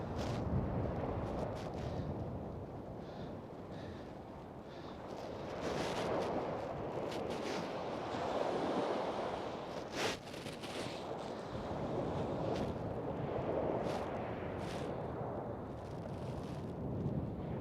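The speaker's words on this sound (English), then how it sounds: "The wind's really picking up over here." Strong wind at a snowy Coney Island beach buffets the microphone in surging gusts, with a broad roar that swells and fades over the distant surf.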